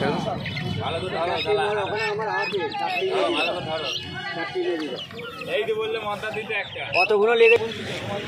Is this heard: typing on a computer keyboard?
no